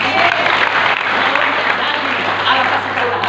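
Congregation applause during an Indonesian church sermon, a brief burst of many hands clapping at steady loudness with some voices mixed in.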